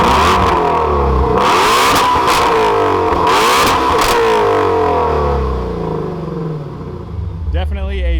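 A 526-horsepower Shelby Mustang GT350 engine revs loudly in sport mode, a dense roaring run of repeated throttle blips close by, settling toward idle near the end before a voice briefly comes in.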